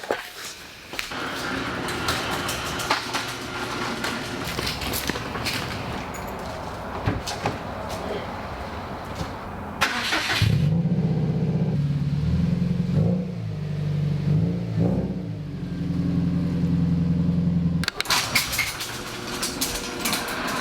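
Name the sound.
car engine starting and driving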